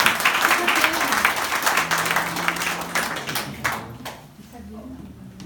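Audience applause for massage therapists at an evening back-to-school cocktail at a wellness centre, a brisk burst of clapping that thins and fades after a few seconds as voices murmur underneath.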